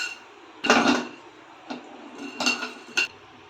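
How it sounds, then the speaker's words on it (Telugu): Black peppercorns tumble into a hot pan with a few sharp clattering bursts and metallic clinks, close and fairly loud, separated by quiet pauses. "మళ్ళీ ప్యాన్ పెట్టుకొని మిరియాలు వేసుకుందాం"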